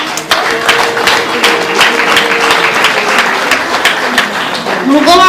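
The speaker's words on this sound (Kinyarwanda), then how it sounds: "akinguye amashyi y'inkazi" Dense hand clapping from a group at a wedding celebration, a fast and loud patter running steadily throughout. Voices and singing are mixed in.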